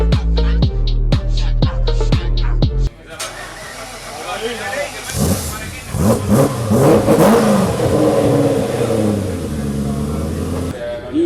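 A drift car engine, just after a quick throttle cable repair at a drifting championship final, revs in a rapid series of rhythmic bursts. A loud hissing, rumbling wash with voices follows.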